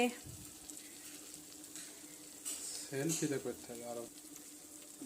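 Mustard paste and turmeric frying in a pan for a pabda fish curry, a steady close sizzle with brief stirring and clattering bursts midway, no talk.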